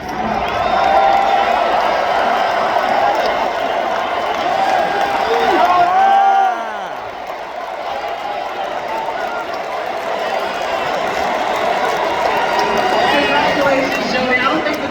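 A large stadium crowd cheers at the Seattle Seahawks Super Bowl trophy ceremony, a loud continuous roar with whoops that swells and eases. An announcer's amplified voice talks over the crowd.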